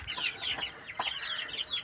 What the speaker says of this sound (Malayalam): പോരുകോഴി കുഞ്ഞുങ്ങളാണ്.